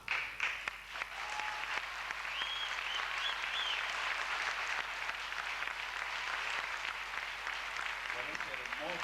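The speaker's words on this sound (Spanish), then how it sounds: "yo entiendo que Jessica merece un aplauso estruendoso." An audience at an evening of Paraguayan music applauds in a sustained wash of clapping at moderate volume, with voices audible over it.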